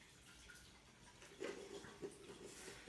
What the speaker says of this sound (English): just a little bit of water like that just to introduce your springtails is fine